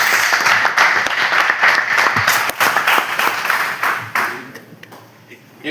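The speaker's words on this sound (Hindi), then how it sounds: "तालियां बजाइए खुद के लिए।" An audience at a career guidance program claps together, dense applause that holds steady for several seconds, then thins out and fades toward the end.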